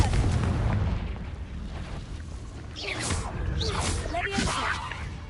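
A Confringo blasting spell goes off in Hogwarts Legacy as a series of booming explosive bursts and crackling impacts, layered over a low rumbling game soundscape in a cave maze, loud and close.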